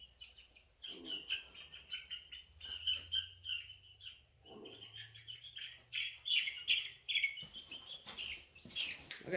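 Baby chicks chirp in a soft, busy chorus of quick, high peeps and tweets, close by but fairly faint, with small rustles and no talking.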